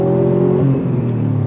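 Turbocharged engine of a 2018 Subaru WRX STI Type RA with a catback exhaust, droning steadily from inside the car while driving, a sustained low hum with a slight shift in pitch partway through.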